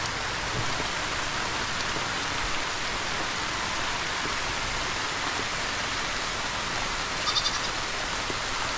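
Steady rain falls in a continuous broadband hiss, with a brief faint animal bleat near the end and no talking.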